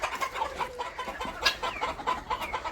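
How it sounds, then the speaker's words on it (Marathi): Frightened hens on Ananya Farm at Panvel Nandgaon cluck in rapid, agitated bursts, several birds overlapping nearby, with sharper squawks breaking through a steady nervous chatter. "तर कोंबड्या घाबरल्या, पाहू शकता, सर्व पळाल्या आजूबाजूला।"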